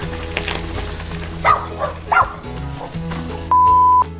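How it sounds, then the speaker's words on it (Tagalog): A few short dog barks and yips amid background noise during a ride on a Giant Revolt 2 bicycle, spread out over several seconds, followed by a steady electronic beep tone. "Kinabahan ako sa aso"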